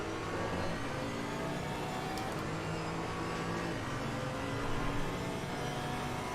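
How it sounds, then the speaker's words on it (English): GT4 race car at Zandvoort in a racing game, a steady loud engine drone with another car running alongside, continuous without pause. "Car on the right."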